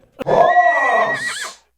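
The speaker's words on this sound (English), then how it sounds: "Look, a horse!" A horse neighs in a loud, close whinny lasting over a second, its pitch rising then wavering and falling off at the end, with no speech.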